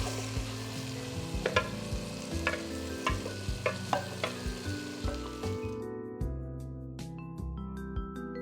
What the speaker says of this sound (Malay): Sekarang kita masukkan bahan yang kita kisar ya